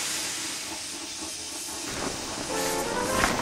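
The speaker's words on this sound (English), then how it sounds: "He was so scared, he let out a huge burst of steam" A storybook steam engine lets out a big burst of steam: a loud, steady, close hiss that swells toward the end, with faint rail clatter beneath and no talking.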